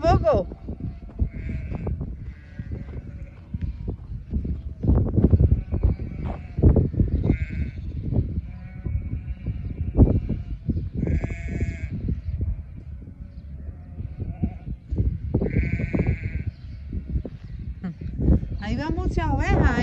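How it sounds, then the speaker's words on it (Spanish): Many sheep bleat repeatedly, some close and some farther off, while people talk over the flock throughout. "Muchas ovejas"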